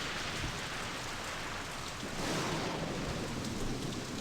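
A storm in the Nancy Drew game Message in a Haunted Mansion, set in San Francisco, gives a steady hiss of heavy rain with a low rumble of thunder swelling about halfway through, with no talking.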